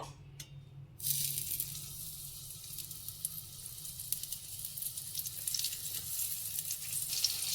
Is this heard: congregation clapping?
no